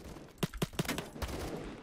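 Suppressed FAL rifle fire in the Roblox game Phantom Forces: three quick muffled shots close together, then a single softer shot after a short pause, over a low hum of game ambience.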